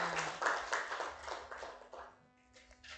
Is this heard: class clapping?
yes